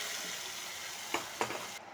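Fried tempering tipped into a simmering tomato and amaranth leaf stew, a steady hissing sizzle with two brief louder bursts as it hits the pot.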